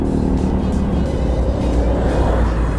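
A Ford Mustang drives past on a congested street, its engine a loud, steady roar up close that fills the whole moment over general traffic noise.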